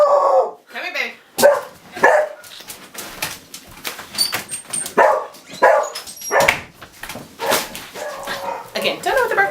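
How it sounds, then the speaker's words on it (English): A dog barks repeatedly at close range in short bursts, with some whimpering and talking mixed in. "Again, don't know what the bark is."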